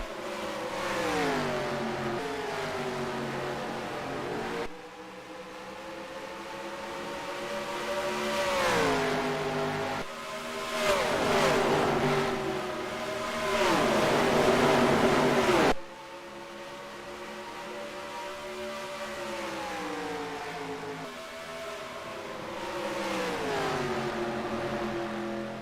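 Stock-car engines in the NASCAR Racing 2003 video game, set in a Disney Cars Piston Cup season, drone and rise steadily through gear changes, with several cars revving close by in continuous waves.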